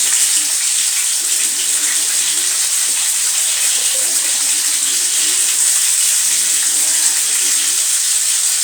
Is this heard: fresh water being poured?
yes